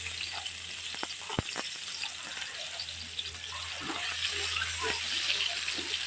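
Garlic sizzles steadily in a pan for munggo with chicken feet, a constant soft hiss with a few small pops and clicks, alone with no talk.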